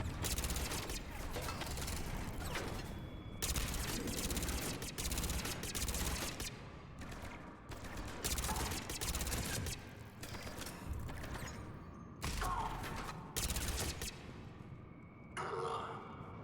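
Submachine gun fire in the shooter game Mass Effect 3, in long, dense bursts separated by brief pauses amid battle noise, with occasional voices.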